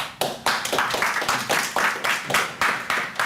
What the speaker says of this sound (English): It's always good when people applaud to start with